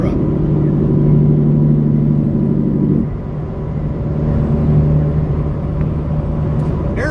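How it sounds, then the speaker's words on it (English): A big rig's truck engine drones steadily while driving on a Kentucky road, a loud, close low rumble with a humming whine on top that dips briefly partway through, then carries on unbroken. "Listen to this truck."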